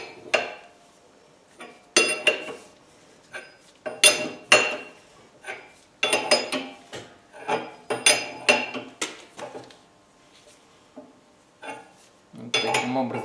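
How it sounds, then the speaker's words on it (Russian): Rear wheel arch of a Honda Civic being pulled out during bodywork repair, a series of sharp metallic clanks and knocks in irregular bursts, close and fairly loud with short pauses between. "Также начинаю вытягивать арку крыла."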